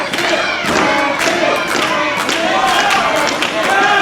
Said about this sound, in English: You can hear the crowd getting behind Braxton Hunter here.